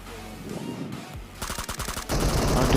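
Gunfire in the mobile battle-royale game PUBG Mobile: close, rapid bursts of automatic shots, first scattered and then a dense continuous volley that grows louder toward the end.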